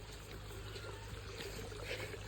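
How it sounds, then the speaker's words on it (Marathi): Water gushes along a stream-like channel on a farm, a steady, unbroken babbling flow that stays even and fairly soft from start to finish, with no voices over it. "हे बघा झरासारखं पाणी खळखळ खळखळ वाहणार."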